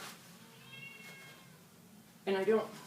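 A cat gives a short meow near the end, after a stretch of quiet room tone, with a soft earlier mew partly under it.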